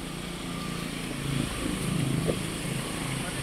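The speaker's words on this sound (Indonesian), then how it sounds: "tak matiin sekalian mesinnya" Daihatsu Luxio, a base-model car, with its engine idling in a steady low drone that holds close and even throughout, rising only slightly midway, with faint voices in the background.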